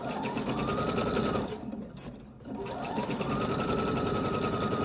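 A sewing machine runs through a seam on an Ankara skirt pocket, a fast steady mechanical whir that stalls briefly midway and then picks up again, loud and close with no voices.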